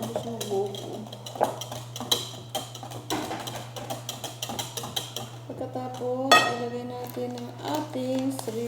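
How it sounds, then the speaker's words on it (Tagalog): Buko pandan mixture stirred in a bowl, with steady clinking and scraping of a utensil beneath a constant low hum, and faint talk in the background. "So, i-mix, mix, mix, mix natin siya guys."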